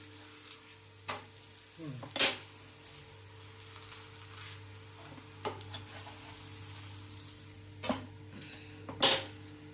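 Quiet steady sizzling of ragi-flour batter roasting on a hot griddle, with a few sharp scraping or clinking sounds scattered throughout, no talking.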